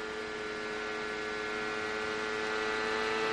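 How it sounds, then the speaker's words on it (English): CART race car engine at full throttle on the oval at the 1998 Grand Prix of Miami, a continuous high-pitched droning whine holding steady and growing slightly louder, with no talking. "You can hear that, the throttle."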